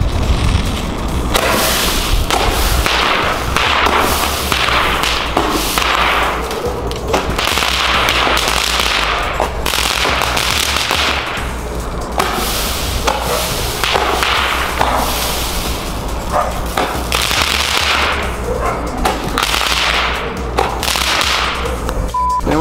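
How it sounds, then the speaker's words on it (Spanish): A long, steady run of loud, sharp bangs and crackles from a 16-shot Roman candle firework battery, shots overlapping continuously for over twenty seconds with no voices. "ahora vamos a quemar esta batería de 16 disparos"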